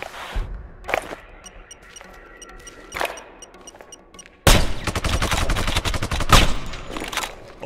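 Gunfire in the video game Sniper Ghost Warrior 2: a few isolated sharp shots, then a dense burst of rapid automatic fire that keeps going loud to the end.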